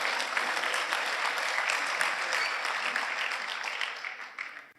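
A church congregation claps together in dense, steady applause that stays loud for several seconds and then tapers off quickly at the end.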